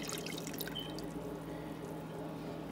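Broth pours steadily over meat in a Ninja air fryer slow cooker while birria is being made, a continuous close liquid splash and trickle lasting the whole moment with no talking.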